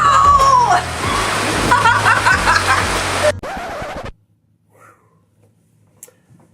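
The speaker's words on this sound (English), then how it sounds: "Oh my gosh, it's pouring!" Heavy rain pours on New Year's in Brazil as a loud, dense, hissing wash for about four seconds, with excited voices mixed in, then cuts off abruptly to near silence.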